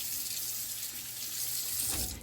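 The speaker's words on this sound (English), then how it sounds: "Make sure you wash your celery really well with cool water." Cool tap water runs steadily into a kitchen sink while celery is washed, a continuous close hiss and splash with a slight change in flow near the end and no talking.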